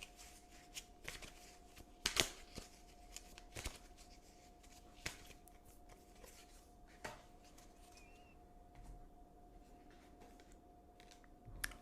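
A tarot deck being shuffled by hand, repeated sharp riffling flutters and card snaps at irregular intervals over a quiet room hum, close and distinct, no talking.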